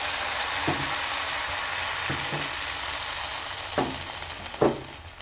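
Semolina paratha frying in oil in a pan, a steady soft sizzle with a few brief scraping knocks from turning it, close by and no voices.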